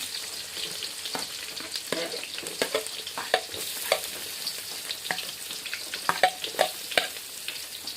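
Chopped onion fries in hot oil, a close bright sizzle broken by repeated scraping and clicking strokes of a spatula stirring it in the pan.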